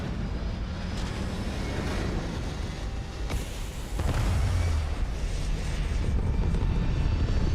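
Spaceship liftoff in Starfield: a loud, steady low engine roar with broadband rumble that swells and deepens midway, sustained to the end with no voices.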